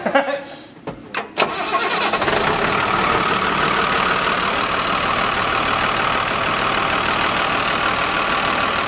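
A giant diesel engine cranks after new starter work, with a few sharp clunks before it catches, then settles into a loud, steady, rumbling idle that fills the rest of the clip.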